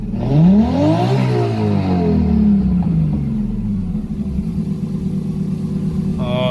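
Nissan S14 fitted with a stock-block RB26 inline-six and a single 6765 turbo revs hard, engine pitch sweeping up and down in a loud, close roar before settling to a rumbling idle.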